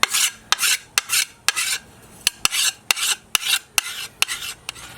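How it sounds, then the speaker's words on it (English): A weeding hoe blade is sharpened with repeated rasping file strokes, about a dozen close, bright scrapes in a steady rhythm, each ending in a sharp metallic click. "But first I'm going to sharpen it."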